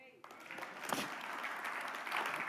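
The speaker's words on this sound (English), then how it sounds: "You are welcome to clap" An audience at a church Sunday service breaks into sustained applause, many hands clapping steadily and filling the room after a brief moment of quieter sound.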